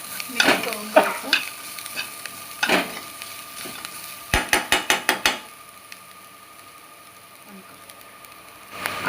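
Leftover chapati chivda sizzles in a pan while a spoon stirs it, scraping and clattering in irregular strokes, then a quick run of sharp clicks, with a soft frying hiss underneath throughout.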